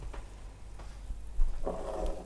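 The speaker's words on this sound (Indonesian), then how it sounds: "Ini airnya sudah mendidih." A pot of water at a rolling boil, heated for a drink, gives a soft steady bubbling hiss that swells louder near the end of the short stretch, with no talking.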